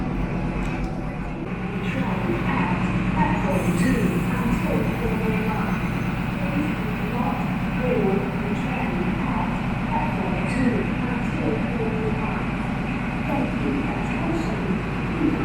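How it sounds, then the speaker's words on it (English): Loud, steady rumble and rattling clatter of a moving train carriage persists throughout, with a voice talking faintly underneath; a very noisy train in New South Wales, Australia. "Definitely not the cleanest train, and very noisy."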